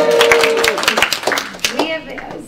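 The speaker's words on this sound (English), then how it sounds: "come on everyone," An audience at a talk on missing middle housing claps in a short burst of scattered hand claps under a speaker's voice, fading toward the end.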